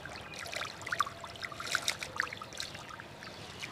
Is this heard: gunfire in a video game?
no